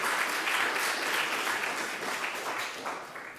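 A church congregation applauds the choir, with steady, dense clapping that stays close and loud throughout before tapering slightly at the end.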